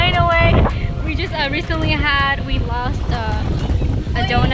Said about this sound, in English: It's really windy and people's tents are